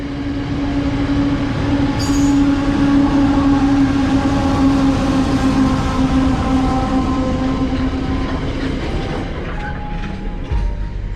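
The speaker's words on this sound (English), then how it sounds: "Quite some train," A long train with multiple sets of locomotives rumbles steadily past at close range across the Nullarbor, with a sustained low drone, metallic wheel tones and a brief high squeal early on.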